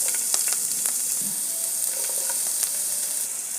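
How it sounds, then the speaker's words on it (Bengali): Chopped onion frying in oil with a bay leaf: a constant, close crackling sizzle with scattered pops and light stirring scrapes, and no voices. "এখন দিয়ে দেব পেঁয়াজ কুচি"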